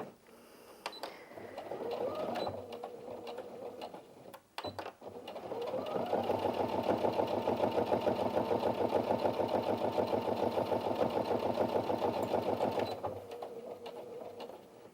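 A Brother Inventio NV1350 sewing machine stitches thin denim with a short burst of rapid needle clatter, a pause, then a longer steady run of fast rhythmic stitching, heard up close.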